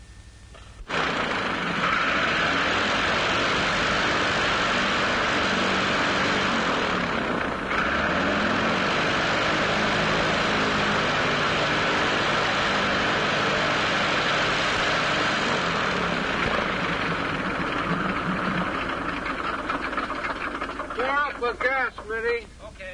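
An airplane engine fresh from overhaul drones steadily and loudly for the whole stretch, with a brief dip partway through and voices talking over it near the end.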